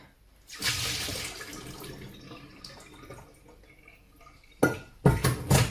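Soaked cherries and sultanas drained into a sink, with a loud rush of water running through a colander, a quieter trickling stretch, then several sharp splashy bursts near the end; no talking.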